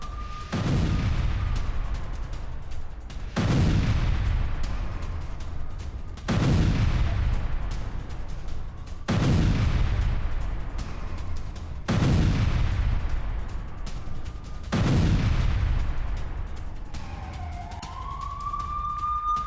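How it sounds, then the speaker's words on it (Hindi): Israeli bombardment of Hezbollah positions: six heavy, booming explosions at regular intervals, each a loud blast with a long rumbling decay, followed by a rising siren-like whine at the end. "हिजबुल्लाह के ठिकानों पर इजरायल की बमबारी जारी है"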